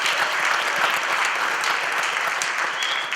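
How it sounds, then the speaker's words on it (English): A live-show audience applauds steadily after a round of business pitches on Hawks' Nest, a dense, even wash of many hands clapping close by for the whole stretch. "So a huge round of applause from them all"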